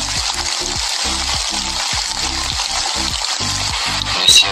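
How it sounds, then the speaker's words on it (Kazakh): Gentle rain falls steadily in an even hiss, with a low rhythmic thumping pattern running beneath it and a brief louder patch near the end. "Бұл көріністердегі жай ғана бір жайлы жаңбыр."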